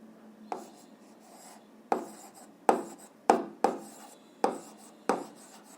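A pen writes on paper while someone works through an 8th-grade physics exercise. Sharp, close scratches and taps come in an irregular burst of about seven strokes over a faint background hiss.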